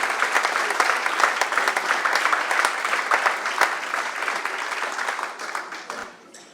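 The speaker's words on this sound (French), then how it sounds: "Je crois que vous pouvez les applaudir." An audience claps in sustained, dense applause for several seconds before it tapers off and fades near the end.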